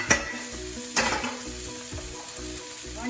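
Cumin seeds sizzling in hot oil in a pan, a close, steady frying crackle with a couple of sharp stirring clinks and a faint repeating hum underneath.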